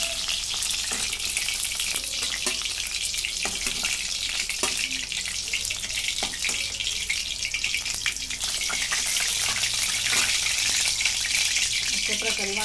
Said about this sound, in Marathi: अशा प्रकारे वांगी सर्व भाजून घेतलेले आहेत।